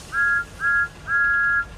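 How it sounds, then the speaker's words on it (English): A toy train engine blows its whistle three times: two short steady tones, then a longer one, clear and fairly close with no other sound. "He blew his whistle,"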